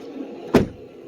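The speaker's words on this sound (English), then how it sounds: "As you can see, they still close after all these damages." A single heavy car door slams shut on a crash-damaged 1992 Mercedes 600SEL, one sharp, loud, close thud against a quiet background.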